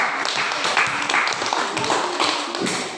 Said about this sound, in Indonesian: tepuk tangan untuk kelompok lebah